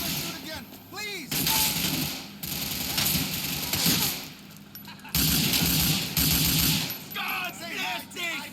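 Bursts of rapid gunfire and heavy shots from the GTA IV video game fill the scene loudly, with sustained volleys broken by short lulls and some voices in between.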